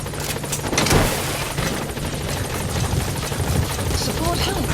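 A support helicopter arriving at a landing zone in the game Metal Gear Solid V: The Phantom Pain, its rotor noise a steady, loud whir with gunfire-like bursts mixed in, while voices speak over it.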